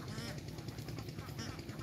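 A flock of ducks quacks in a rice field on a countryside duck farm, a dense, continuous chorus of calls close by with a faint voice in the background.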